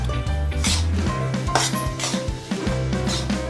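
Besan (gram flour) roasting in a pan while a metal spatula scrapes and stirs it, giving repeated clanking and scraping strokes over a steady low hum, close and fairly loud, with no talking.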